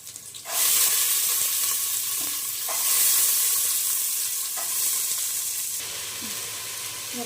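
Washed sprouted beans tipped into a pan of frying onions and curry leaves, then stirred: a loud sudden sizzle that stays a dense, steady hiss with occasional scraping stir sounds, no voices.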